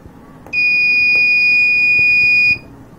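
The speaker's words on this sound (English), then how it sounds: "Once I press this switch, this buzzer will turn on and LED start blinking for some time and then turn off." A Raspberry Pi smart door lock's buzzer sounds one continuous shrill electronic tone for about two seconds, then stops abruptly, loud and close over a quiet room.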